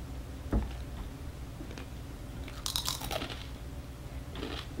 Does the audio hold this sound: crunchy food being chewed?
yes